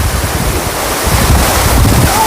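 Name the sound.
waterfall in Ghodkhind / Pavankhind pass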